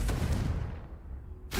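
Spell explosions from Bombarda and Confringo in Hogwarts Legacy, a loud booming burst with a rumbling decay, followed by another sharp blast at the end.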